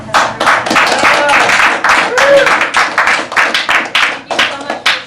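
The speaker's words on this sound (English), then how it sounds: "I think we should give another round of applause to Owen too." Audience applause for Owen, a young opera singer, with dense clapping that fills the room and carries voices and cheers over it, loud and close and trailing off unevenly.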